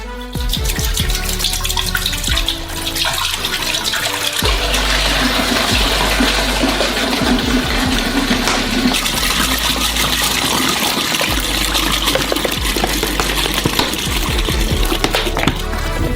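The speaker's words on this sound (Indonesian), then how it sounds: "Kami buka botol" Fourteen litres of milk poured from opened bottles into a large pot, a steady continuous gushing splash that runs loud and unbroken throughout, with faint bottle knocks along the way.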